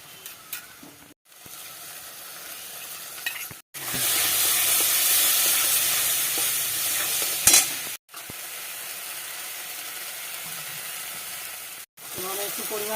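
Spices in water, Kashmiri chilli, coriander-cumin powder and turmeric, poured into a hot pan for aloo dum, with bursts of loud sizzling and stirring scrapes broken by brief silent cuts.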